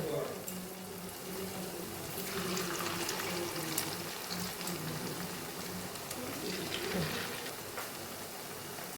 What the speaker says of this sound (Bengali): আর গ্যাসের ফ্লেমটা কিন্তু আমি হাই রাখিনি, একদম লোয়ে আমি ভাজছি